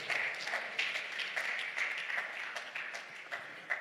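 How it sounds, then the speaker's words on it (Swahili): A church congregation applauding during a communion service, a dense patter of many hands clapping at moderate distance, fairly soft and continuous throughout. "Makofi mengi kwa Yesu."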